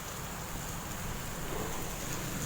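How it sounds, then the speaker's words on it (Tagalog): Heavy typhoon rain pours down around a bridge, heard from underneath it as a continuous dense hiss with low rumble and no speech. "Malakas po yung ulan, no?"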